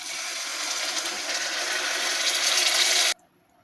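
One and a half cups of water pour steadily into a pressure cooker of potato curry, a continuous close gushing hiss that grows slightly louder and then stops abruptly near the end.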